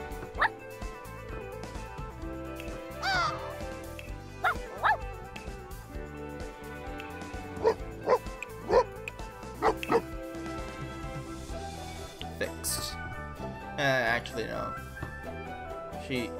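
Puppy in The Sims 4 giving small yips and barks, short scattered bursts over steady game music, with a person talking through much of it.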